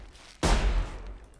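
A single gunshot in the video game Sir, You Are Being Hunted, fired at a rabbit: a sudden loud, booming crack with a deep low thump, tailing off over about a second against quiet game ambience.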